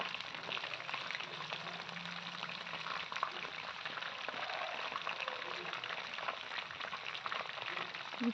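Chakralu snacks frying in hot oil, a steady dense sizzle and crackle that stays close and even throughout, with no speech over it.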